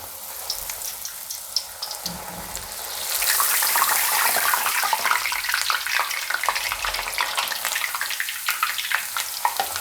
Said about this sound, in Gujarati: આ રીતે આપણે આમાં દાળ નાખી દેવું અને તેલમાં બુડે એટલી આપણે એમાં નાખશું